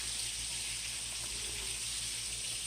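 Chicken strips and cabbage frying in a huge uncovered wok: a steady, even hiss of sizzling oil, moderately close, with no talk over it.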